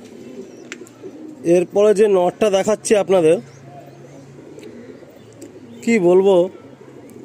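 Pigeons coo in a loft, a low, steady murmur that runs beneath someone speaking in short bursts throughout.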